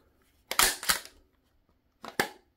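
A pistol snaps onto a strong magnetic mount with two sharp, close clacks, followed a moment later by another quick pair of clicks, each double hit crisp and loud against near silence.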